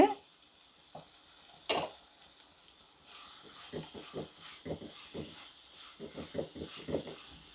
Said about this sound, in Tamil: பச்சை வாசனை போகிற வரைக்கும் நல்லா வணக்கணுங்க.